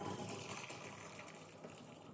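Vegetable cooking water from a cooker poured into a separate dish while making a creamy mushroom soup, a steady close gushing pour running for the whole stretch without pause.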